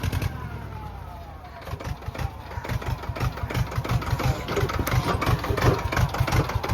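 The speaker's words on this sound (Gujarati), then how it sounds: "જો આવી રીતે ટ્રેક્ટર હાલે છે" A tractor engine runs in Kedarnath with a steady, rhythmic low chugging that grows slightly louder and busier partway through, close by and continuous with no talk over it.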